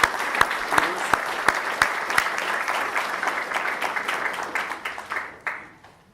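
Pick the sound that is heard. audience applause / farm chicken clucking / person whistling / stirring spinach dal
audience applause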